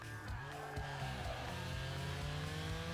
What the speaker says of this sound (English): I do not like what that last engine upgrade made it sound